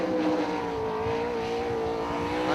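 A 410 sprint car, the 16 HD car, runs on the dirt oval at 34 Raceway in West Burlington, Iowa, during an Interstate Racing Association event, its engine droning loudly and continuously at high revs.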